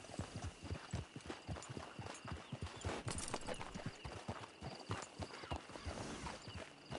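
Horse hooves clip-clopping in Red Dead Redemption 2, a steady rapid rhythm of muffled hoofbeats close by over a dense game ambience, with no talk.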